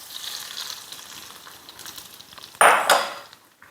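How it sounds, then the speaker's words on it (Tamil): Cashews fried in ghee are tipped into pongal, giving a sudden close burst of sizzling and clatter that fades after a faint steady frying hiss. "இங்கே பாருங்கள், நெய்யில் முந்திரி நல்லா ஃப்ரை ஆகிடுச்சு"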